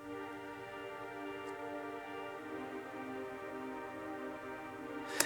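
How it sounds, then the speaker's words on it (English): A dry synth pad without effects holds a sustained, harmonically rich chord, soft and steady with a slight swell partway through and a brief click at the very end, no voices. "that pad without any effects sounds like this"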